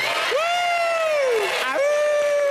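A crowd at a Halloween costume evening cheers for a werewolf-costumed contestant: long, sustained whooping cries ring out over a bed of crowd noise, with a second shout rising near the end.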